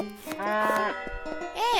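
A cow mooing in the card game Card Cowboy, a drawn-out low call followed by a second shorter moo, clear and close.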